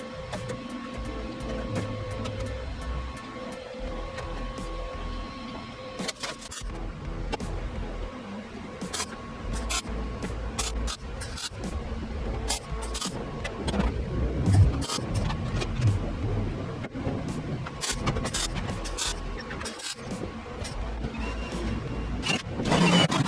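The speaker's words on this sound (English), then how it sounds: "I'm just gonna stitch weld it" A welder stitch-welds a steel tunnel in a Colorado, laying down short steady crackling runs broken by brief pauses, close and continuous with faint mechanical hum beneath.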